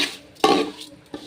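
A utensil scrapes and clanks against a pan while mung dal is stirred as it dry-fries, giving a few sharp knocks and scrapes in a short burst.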